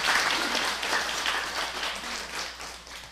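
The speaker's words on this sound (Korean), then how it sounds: "우리 하나님께 영광의 박수를" Congregation applause at a Sunday church service in Korea, a steady, moderately loud patter of clapping that continues for the whole stretch and fades slightly toward the end.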